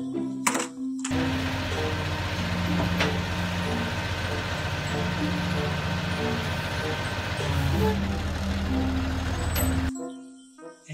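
Yellow and blue toy dump truck rolling along with a continuous motor whir and rattling for about nine seconds, with a faint tonal hum and brief knocks at the start and end.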